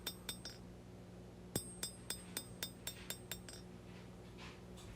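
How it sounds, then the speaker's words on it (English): A hand hammer strikes a hot steel knife blade, a large skinner or slicer, on an anvil at low forging heat, ringing in light, quick, evenly spaced blows, about a dozen in a short burst. "Now when I'm hammering at a low heat, I'm not hitting it very hard"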